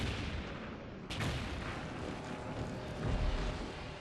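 A test blast goes off before the implosion of the Fonte Nova stadium in Salvador, Bahia: one sudden, wide boom about a second in, then a long, rolling rumble and roar that swells again near the end.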